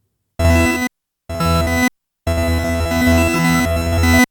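Three bursts of dense, harmonically rich synthesized tones played through a Morphogene module, separated by silence, the last one longer with shifting, layered pitches.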